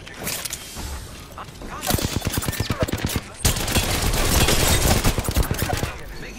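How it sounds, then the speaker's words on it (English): Enemy gunfire in Apex Legends, rapid automatic bursts with sharply repeating shots, loud and close, breaking into a longer sustained volley, with game voice lines in the mix. "The enemies are shooting at me."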